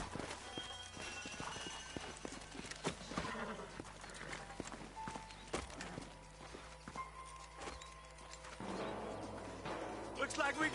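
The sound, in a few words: horses' hooves clip-clopping, from Red Dead video game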